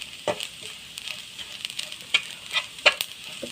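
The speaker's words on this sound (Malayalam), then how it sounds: "അതിൻ്റെ അകത്ത് തേങ്ങ ഇട്ടാണ് നമ്മളിപ്പോൾ വറക്കുന്നത്." Grated coconut fries in oil in a pan for padavalanga theeyal, a Kerala curry, with a quiet sizzle and sharp crackles and pops spaced irregularly, close and alone.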